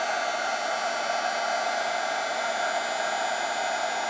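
A heat tool blows a steady, loud hissing whoosh over a stamped card during embossing, unbroken and close with no talk.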